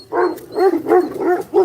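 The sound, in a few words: dog barking at dogs behind the fence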